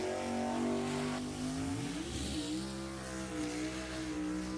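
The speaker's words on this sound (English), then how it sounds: "The 524-inch blown Hemi, Richard Wilson over there from Azusa." A funny car with a 524-inch supercharged Hemi engine, built on a 1935 Chrysler Airflow body, roars loudly at a drag strip, its steady high-powered engine note rising in pitch partway through.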